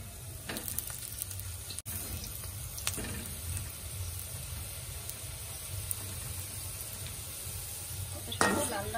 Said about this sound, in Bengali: এই যে বড়া ভেজে নিচ্ছি, দেখো তেলের মধ্যে দিয়ে দিয়েছি একটা একটা করে